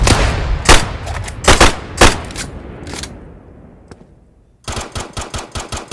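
Bursts of gunfire in a Roblox weapon-testing game: loud volleys of separate shots in the first few seconds, a quieter stretch, then a fast steady string of rapid shots near the end, with no talk over it.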